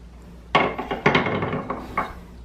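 A child's toy wooden hammer clacks and rattles in a few quick, close handling knocks, lightly struck several times in a row in a Montessori-style playroom.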